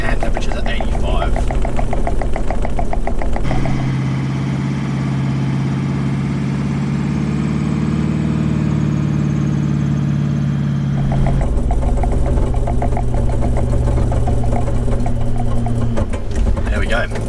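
Toyota Land Cruiser LC200 engine working steadily in crawl control while climbing out of a bog, a loud continuous low drone with a deeper, smoother stretch in the middle.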